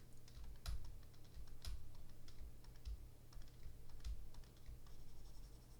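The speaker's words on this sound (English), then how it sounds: "So I'm going to hit X on my keyboard." Keys on a computer keyboard are tapped in irregular bursts during digital character design work, sharp close clicks spaced unevenly over a faint steady hum, with no talking.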